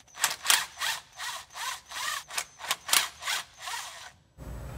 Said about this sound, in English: this is held in by 2 bolts that are gonna require a T20 torque socket to remove.